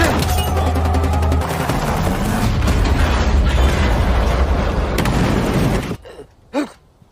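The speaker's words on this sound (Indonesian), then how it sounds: "mereka berdua bergegas berlindung dari tembakan yang diarahkan anak buah si Mayor" Film action scene with gunfire from a Major's henchmen, a dense, loud barrage of bursts and booms filling several seconds, then dropping away to a quieter pause with a couple of isolated fainter pops near the end.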